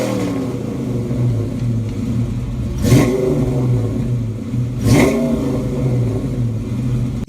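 A Fox body Mustang's 5.0 V8 breathing through Flowmaster two- and three-chamber mufflers gives a deep, loud, steady rumble with two sharp revs swelling up midway.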